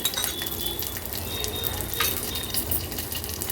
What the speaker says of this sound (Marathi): अर्धा चमचा जिरं दोन लसणाच्या पाकळ्या लाल सुकी मिरची हिरवी मिरची आणि कडीपत्त्याची पानं आहेत ती देखील फोडणीला घालूया